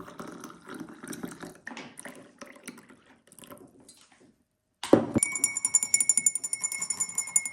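Boiling water poured from a kettle into a glass, preceded by faint clinks of handling; the pour starts with a sharp splash and settles into a bright, rising gurgle as the glass fills, close and clear.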